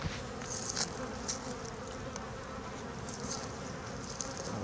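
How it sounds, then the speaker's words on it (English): Honey bees swarm around an open hive during an inspection, a dense, steady buzzing close by, with individual bees zipping past the listener now and then. "I'll give the bees a chance to get out of the way when I rest it."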